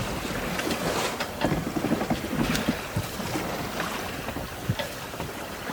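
Wind buffets steadily while sailing on a sailboat in open water near Milford Haven, with rushing gusts and faint water sounds filling the whole stretch.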